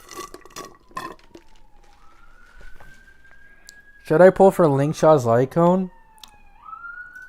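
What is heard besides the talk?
ambulance siren in the background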